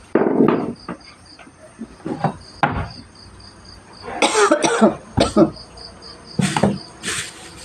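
A person coughs repeatedly in short harsh bursts, close by, with insects chirping steadily in the background and some faint movement noises.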